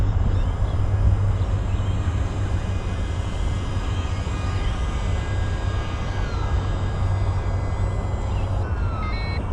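A small electric-powered RC model of a Canberra bomber runs its motor at just over half throttle, giving a steady, loud, close whine with a constant low hum and no pauses.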